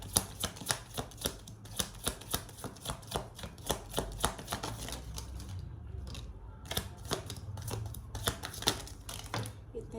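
Tarot cards are shuffled in quick, crisp riffling bursts, a fairly quiet run of clicks and flutters with brief pauses between rounds, with a soft voice in the background.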